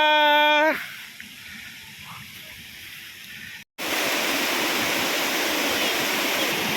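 Tanjung Sakti waterfall in Pagar Alam, a steady broadband roar of falling water that cuts out briefly and returns louder, after a short tonal sound at the start.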